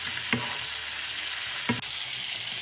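Steaks basting in browned butter in a pan give a steady sizzle and fry hiss, with two short clinks or scrapes of a spoon or pan standing out. No one speaks.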